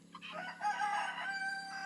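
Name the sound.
rooster crowing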